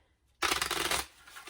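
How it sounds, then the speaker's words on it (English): A deck of playing cards is shuffled once in a quick riffle lasting about half a second, close and crisp, then a softer settling rustle follows; no talking. "You shuffle your deck"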